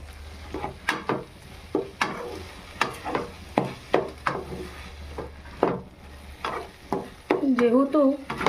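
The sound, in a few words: stirring green chili paste into potatoes and shushni greens in pan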